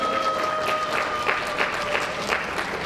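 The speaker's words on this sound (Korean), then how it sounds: "재밌을수록 박수 치시도 됩니다" An audience at a humanities lecture claps in a short burst of applause, a patter of individual hand claps heard close and fairly loud with no talking over it.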